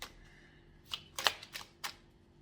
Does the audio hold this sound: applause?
no